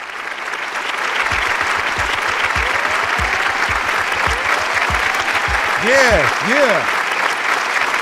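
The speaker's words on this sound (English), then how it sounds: "Let's give a round of applause." A crowd applauds a rap performance in a loud, continuous round of clapping that holds steady throughout, with a voice calling out briefly over it.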